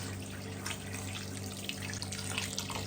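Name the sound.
pouring water into pot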